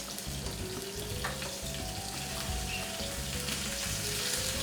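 Steak sizzling in a hot pan, a continuous crackling fry with faint clinks of tongs, moderately close and steady without talk.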